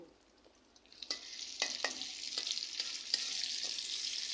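Onion and garlic sizzle in hot oil as a tempering for dal, a steady crackling hiss with several sharp pops and stirring scrapes, close and fairly loud, no talking.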